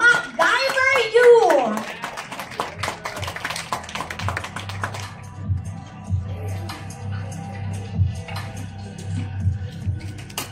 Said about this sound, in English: Please all welcome and give a round of applause to Mr. MacGyver Yu